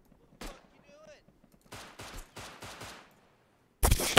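Gunfire in the survival video game Rust: several sharp shots in quick bursts with gaps, then a loud burst at the end, while a brief voice and a whistling tone sound early on.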